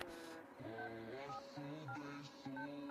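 A telephone number is dialed, and a handful of distinct electronic keypad tones chime one after another at an uneven pace, quiet and close.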